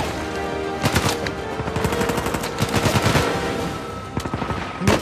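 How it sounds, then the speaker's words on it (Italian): Machine guns fire in Uncharted 4, rapid loud bursts of automatic fire that crackle almost continuously, with sharper bursts near the start and the end. "Mitra, il mitra."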